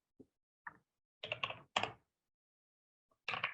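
Keystrokes on a computer keyboard come in short, separate clusters of quick taps with silent gaps between them, close and crisp, with no talking.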